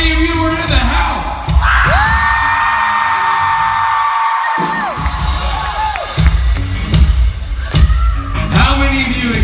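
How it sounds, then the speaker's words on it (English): A convention crowd at a fan event screams and yells together, a loud sustained roar with high shrieks and whoops, then cheering breaks into scattered shouts near the end. "Let's make that a real blood-curdling scream."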